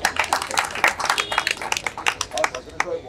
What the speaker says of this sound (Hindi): उनके भी नाम से तालियां लगाओ।